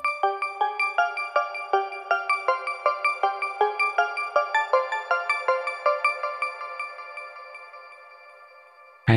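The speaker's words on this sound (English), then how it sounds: "I make another melody using GM synth." A plucky GM Synth melody in FL Studio Mobile, bright, evenly spaced notes with a ringing, echoey tail that slowly fades out.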